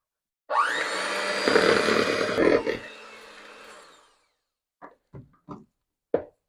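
An electric mixer whirs loudly for about three and a half seconds through gluten-free Monster Cookie dough, then winds down, followed by a few short knocks and scrapes near the bowl.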